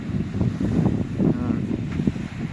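Strong wind by the sea at St. Vlas, Bulgaria, buffets the microphone in continuous low gusty rumbles, with faint surf in the background.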